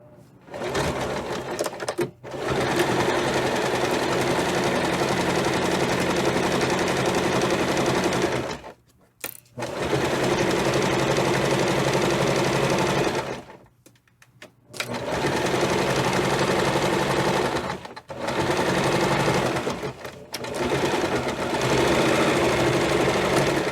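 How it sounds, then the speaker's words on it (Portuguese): A sewing machine stitches a straight seam along the edge of fabric for a cloth pouch, running loud and close in long steady bursts with short pauses between runs. "E aqui a gente vai fazer uma costura bem na beiradinha. E vamos fazer uma costura reta."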